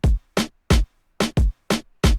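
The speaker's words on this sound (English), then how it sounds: "Next, I added on a different snare for some more layering." Reggaeton-style beat with a layered snare over a rounded kick drum, seven loud, tight drum hits in a bouncing syncopated rhythm, dry and close with no speech.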